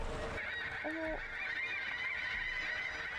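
Gulls calling in a video game, a short burst of squawking cries around the one-second mark over a steady humming in-game ambience, with no talk.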